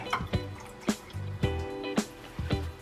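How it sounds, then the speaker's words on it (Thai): Water is added to tamarind in a cup, heard as a series of distinct drips and short splashy pours, close and fairly soft, with several separate splashes arriving at irregular intervals. "เรานำมะขาม ใส่ไปในถ้วยนะครับ เสร็จแล้วก็ เติมน้ำไป"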